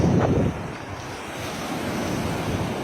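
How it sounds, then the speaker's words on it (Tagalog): Ocean surf at Baler, Aurora rushes and washes ashore, with a loud wave surge at first that settles into a steady roar. Wind rumbles across the microphone. "Ayan, ayan na, may alon na, yung alon na."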